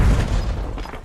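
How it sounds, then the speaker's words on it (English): A grenade explosion in a video game: one loud, deep boom at the start, its low rumble fading away over about a second. "Grenade incoming."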